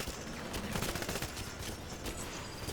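Dense, continuous gunfire in the 007 Legends shooter game, a loud rattling fusillade of overlapping shots filling the whole moment without pause.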